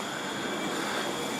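Train coming into a station from Birmingham on a British line, a steady loud rolling rumble and hiss of wheels on rails with faint high tones, no speech.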